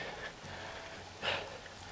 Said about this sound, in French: Il commence à bien pleuvoir là.